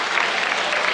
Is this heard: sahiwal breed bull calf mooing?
no